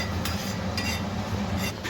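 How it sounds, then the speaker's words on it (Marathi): Cumin seeds are dry-roasted in a pan, giving a close, soft crackle with a few scraping stirs of a spoon against the metal over two seconds, no talking. "आणि हे थोडंसं जिरं पण आपण थोडं भाजून घेऊया."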